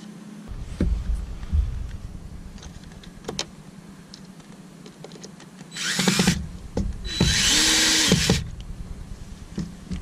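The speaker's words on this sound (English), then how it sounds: "You're also going to need a drill in order to fasten all this up." Two bursts of a power drill whirring while fastening an outdoor security camera, the second longer and steadier, between quieter clicks and handling noises.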